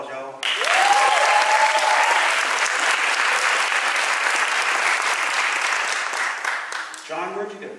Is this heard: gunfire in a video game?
no